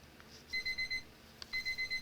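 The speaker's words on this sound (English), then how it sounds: "there goes my timer for my resin" A timer used for curing resin beeps from across the room. It gives two bursts of four rapid electronic chirps each, faint and distant over a low background hum.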